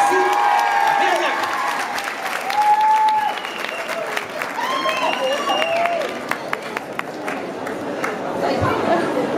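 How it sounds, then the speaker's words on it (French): A concert audience applauds at Mérignac Soleil, with loud, sustained clapping and crowd chatter mixed with voices and a few whistles throughout. "On peut l'applaudir très fort."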